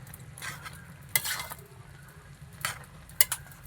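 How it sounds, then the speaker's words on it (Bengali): Sweet-sour jujube pickle bubbles in a wok over a wood fire, a low simmering hiss broken by a few sharp pops and spatters. "কড়াইতেই এই যে টকবক করে কুলের আচারটা এই যে জাল হচ্ছে"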